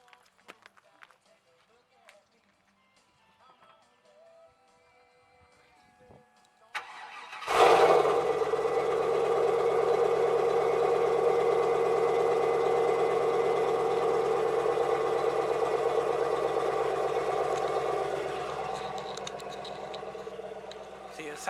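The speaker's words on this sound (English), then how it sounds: "See, it sounds pretty loud right now, but it's gonna get even louder and deeper with the flowmasters on." A 2000 Camaro Z28 V8 on its stock exhaust cranks and starts about a third of the way in, then settles into a steady, loud, rumbling idle that holds close and constant to the end, with faint background sounds before startup.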